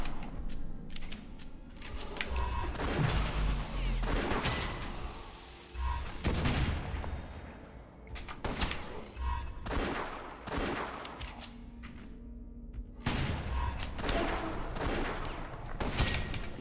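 Shotgun blasts from the roguelike shooter West of Dead, loud repeated booming shots in irregular bursts with reload clatter between, a continuous battle mix running the whole time.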